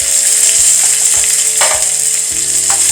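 Chopped snake gourd pieces drop into a pan of frying spices, setting off a loud, steady sizzle with a few stirring scrapes and a sharper burst partway through, without any voices.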